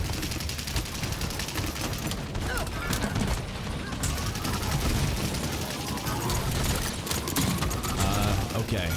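Rapid bursts of video game gunfire crackle continuously at close range, dense and loud, with a busy mix of shots and mechanical clatter filling the whole stretch and no pauses.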